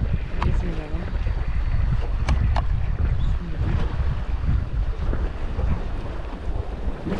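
Wind buffets the microphone outdoors beside a cooking fire where fish pilaf is being made, gusting steadily in a low rumbling roar with a few faint clicks.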